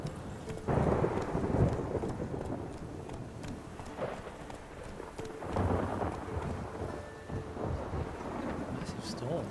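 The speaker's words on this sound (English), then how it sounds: "Massive storm." Thunderstorm in the Witcher 3 game world, with steady rain and low rolling rumbles of thunder building and fading in waves throughout, loud and close, no talk.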